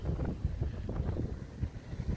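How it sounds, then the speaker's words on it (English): Wind buffets the microphone at a shoreline fishing spot at Paull, near Hull, a steady, rough low rumble with gusting surges and no voices. "A little bit windy here at Paull."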